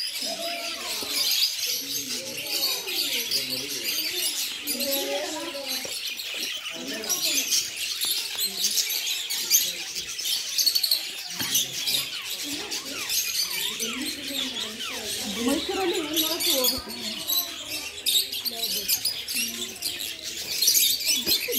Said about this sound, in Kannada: ಲವ್ ಬರ್ಡ್ಸ್ ನೋಡಿ ಎಷ್ಟು ಚೆನ್ನಾಗಿ ಕೂತಿದ್ದಾರೆ ಜೋಡಿಯಾಗಿ.